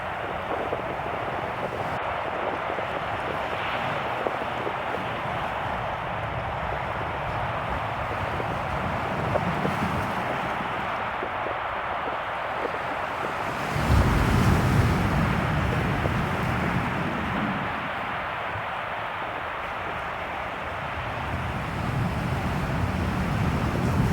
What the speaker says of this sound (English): This is also where the Celtic Sea meets the Atlantic, so it usually gets a bit busy around here,